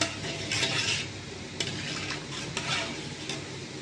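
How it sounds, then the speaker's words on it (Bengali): A sour tomato dish sizzles steadily in hot oil while a utensil scrapes and taps against the pot in a few short strokes, fairly close and with no voices. "একটু টকটা বাগার দিয়েছি"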